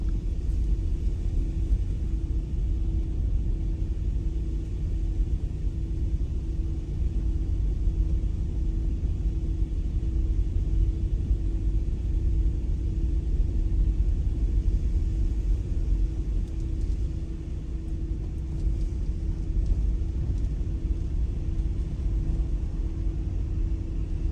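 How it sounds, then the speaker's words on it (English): A car rolls slowly through the narrow cobbled back streets of St Peter Port, Guernsey, a steady low engine and tyre rumble running continuously and close throughout, with no voices. "Drive really slow and just follow it to the end."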